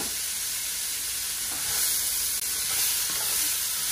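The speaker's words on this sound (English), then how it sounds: "I'm also gonna go ahead and throw in the carrots and the celery, all of it." Carrots and celery drop into a hot pan with onion and erupt into a loud, steady hiss of sizzling that swells midway and stays strong to the end.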